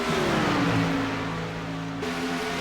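Truck series race trucks at Chicagoland roar past at full throttle, a loud, steady multi-engine drone with shifting harmonic pitch, close and continuous for under three seconds.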